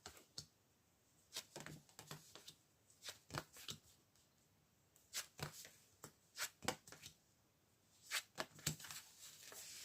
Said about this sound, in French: on va essayer du coup de tirer des cartes sur la flamme jumelle